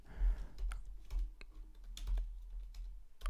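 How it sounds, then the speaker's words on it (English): Fast typing on a computer keyboard close by, a continuous patter of clicky keystrokes with uneven rhythm and some heavier thumps, with no voices. "I'll type it in the chat."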